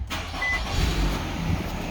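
A 2017 Nissan Rogue engine starts after an oil change and settles into a steady, close idle hum with a brief rise in revs.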